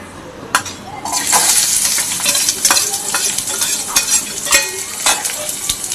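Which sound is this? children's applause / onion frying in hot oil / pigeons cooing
onion frying in hot oil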